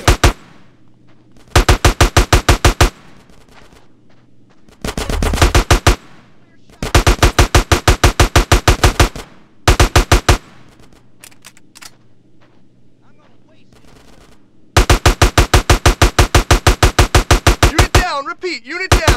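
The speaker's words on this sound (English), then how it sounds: "Get some suppressing fire in there." Loud automatic gunfire in a GTA San Andreas video game mission on PC, several sharp rapid bursts of a second or two each, separated by quieter gaps, with brief voices in between.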